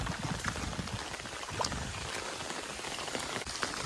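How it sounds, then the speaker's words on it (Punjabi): Rain falling on a farm in Punjab at the start of the cold season, a steady, soft patter with scattered drips close by, continuing throughout with no talk over it. "ਮੀਂਹ ਹੈ"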